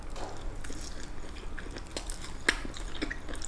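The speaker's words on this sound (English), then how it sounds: "Let's give the sausage a bite." A bite into a crispy-skinned sausage filled with cheese, with one sharp crunchy pop of the skin followed by soft, wet chewing close to the mic and no talking.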